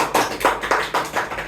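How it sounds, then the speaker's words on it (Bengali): Guests clap after a birthday song at a home birthday party, a few people's hands striking in loose, uneven bursts about every quarter second, close and fairly loud, with no talk over them. "জোরে তালি দাও।"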